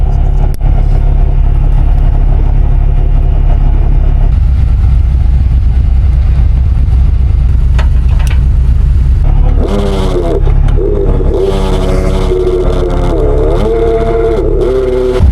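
Off-road vehicle engine idling low, then revving hard in surging bursts while pulling another stuck vehicle out on a cliffside trail, loud and close with no voices.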